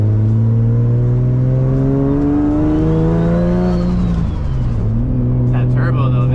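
A turbocharged Nissan Z engine pulls hard while driving, its loud, close drone climbing steadily in pitch, then dropping back as revs fall and building again.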